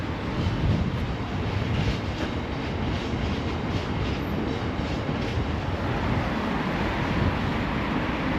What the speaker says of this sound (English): I think a train's just gone by